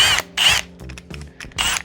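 A Milwaukee power drill with a bent, wobbling chuck spins up in three loud whirring bursts, with quieter clicks and rattles between them, very close.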